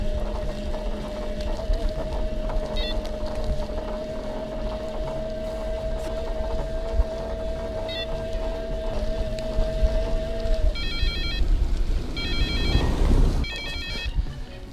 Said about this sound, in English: My wife is calling. Can I answer the phone?